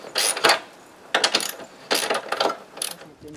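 Bolts go into a solar panel mounting frame at a cottage, with four close bursts of ratcheting, clicking metal and clinking hardware separated by short gaps.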